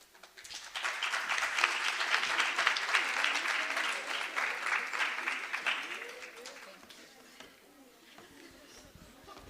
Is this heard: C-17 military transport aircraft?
no